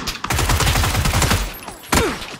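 A burst of rapid automatic gunfire in a video game rattles loud and close, then fades, followed by another sharp gunshot, with no talk over it.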